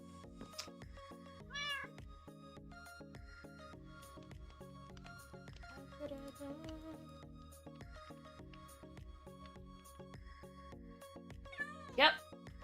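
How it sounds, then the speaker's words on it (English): A cat meows a few times, short rising calls near the start and a louder one near the end, in a Minecraft stream with steady background game music. "Yes, I hear you, kitty."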